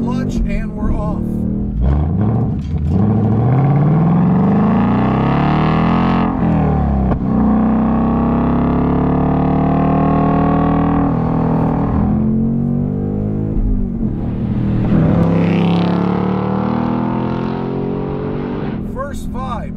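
A 2024 Ford Mustang GT V8 accelerates hard from a clutch drop, its loud roar climbing steadily through the gears for nearly twenty seconds, with brief dips at each shift and no talk over it.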